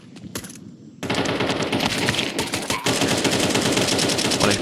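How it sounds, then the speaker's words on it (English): Sustained automatic AK rifle spray in Counter-Strike 2, rapid dense bursts of gunfire that start after a brief sparse opening and continue loudly, with overlapping shots throughout. "1 HPD is trying to push them back with the AK spam."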